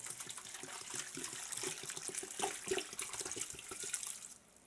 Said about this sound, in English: I filled up one of the V8 jugs with water